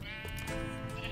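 Blue and black sheep bleating in a Mother Goose Club Lucky Blocks race game, a steady, loud bleat filling the whole moment with layered calls over game music.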